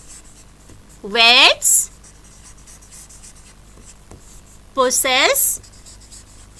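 Marker or chalk scratches faintly across a classroom board as words are written, mostly under a teacher's clear speech that comes in two short bursts.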